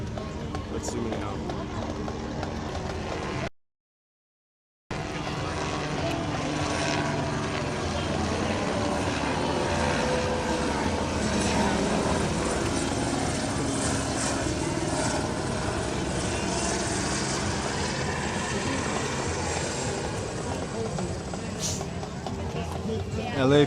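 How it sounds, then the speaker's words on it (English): An LAPD helicopter passes overhead on the Venice and Santa Monica beachfront in Los Angeles, its rotor and engine a continuous broad roar with a short dropout partway through, with faint outdoor ambience around it. "We got a helicopter."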